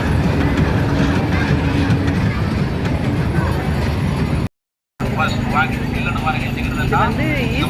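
A train rumbles steadily along the rails with continuous, loud broadband noise, briefly cutting out before resuming; faint voices sit under the rolling sound.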